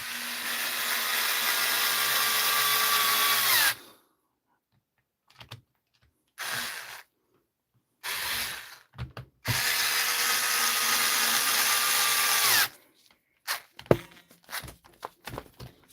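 A DeWalt cordless drill runs in two long bursts of steady whirring as it drives screws, with short stop-start pulses and clicks in between, close and loud.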